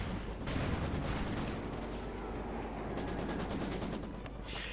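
Mortar and gunfire in the real-time strategy game Company of Heroes 2 during a 1v1 match, a dense continuous rattle of battle sound with rapid bursts of automatic fire near the end.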